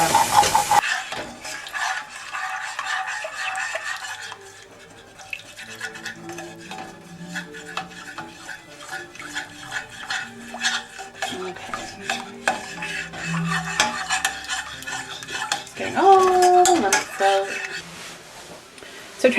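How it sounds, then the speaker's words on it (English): A utensil scrapes and stirs across the bottom of a pan, loosening browned bits as beef broth deglazes it for a hearty pot roast, with a steady rasping and clinking over a low sizzle, close and moderately loud. "add a little bit of beef broth, just a little, to deglaze the pan with, and scrape some of these brown bits off the bottom"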